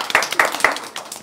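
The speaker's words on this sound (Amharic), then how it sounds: "አጨብጭቡልኝ" A small group claps in a few loose, uneven bursts, bright and close, then briefly trails off.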